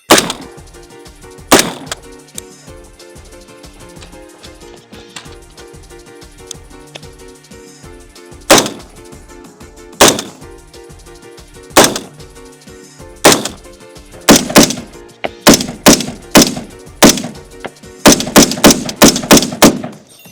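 Gunshots from test firing while wearing a Mayflower plate carrier: loud, sharp reports, first as single shots spaced a second or more apart, then quick strings of shots bunched together near the end, with no talking.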